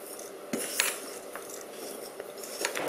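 A spoon stirs a mix of sesame seeds and shredded coconut in a bowl, giving quiet scraping with scattered light metallic clinks and taps, close and unaccompanied by talk.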